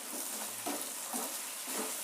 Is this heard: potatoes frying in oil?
yes